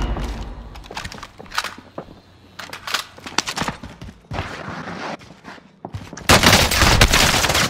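Loud bursts of gunfire in a first-person shooter video game, rapid cracks and volleys scattered through the scene with a dense sustained barrage at the end, no talk over it.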